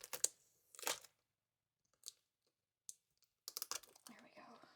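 Tape being ripped off a tightly sealed craft package comes in short, close tearing bursts separated by quiet pauses, ending in a longer rustling scrape as it finally gives way.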